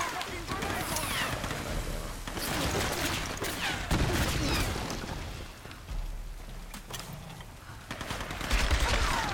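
Enemies fire guns in Tomb Raider (2013), steady bursts of rapid gunshots and scattered impacts crackling through a noisy battle, with talk over the top.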